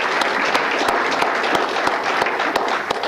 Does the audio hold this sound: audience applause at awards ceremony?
yes